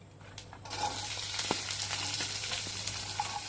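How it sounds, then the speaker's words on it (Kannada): Chopped onion frying in hot oil with mustard seeds and cumin for a dhaba-style aloo gobi, a steady close sizzle with a few brief clinks and scrapes of stirring. "ಉಳ್ಳಾಗಡ್ಡಿ ಭಾಳ ಚಂದ ಫ್ರೈ ಆಗ್ಬೇಕಾ?"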